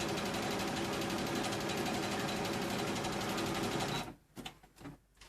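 A Brother Innovis 35 sewing machine stitching fabric runs in a fast, steady mechanical whir for about four seconds, then stops abruptly, leaving a few quieter thumps and handling noises.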